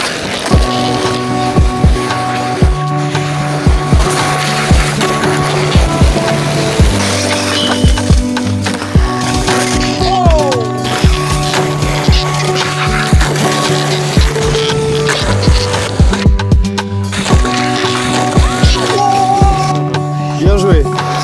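Skateboarding at the Chorges skatepark: repeated sharp wheel clacks and board impacts in an irregular rhythm, close by, under steady background music with voices now and then.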